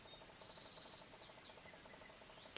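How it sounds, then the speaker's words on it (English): Faint bird calls and chirps ring out in the distance over a quiet background with soft insect buzzing; no voices. "Can you hear the birds?"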